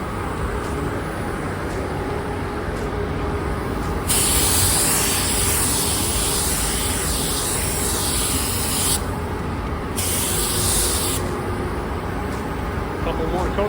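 A Honda CBR600 F3 motorcycle part being spray painted during a restoration: a loud, continuous hiss of spray that swells and eases as the nozzle is pressed, steady throughout with no pauses.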